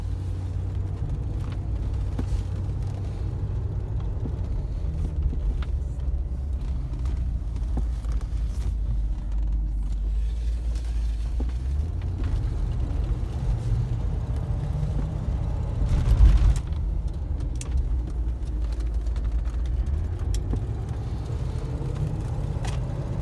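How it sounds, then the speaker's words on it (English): Classic Range Rover driving along with a steady low engine and road rumble and a slight exhaust leak, continuous and fairly even throughout, with one brief louder bump midway. "You might hear a little exhaust leak, otherwise no weird noises."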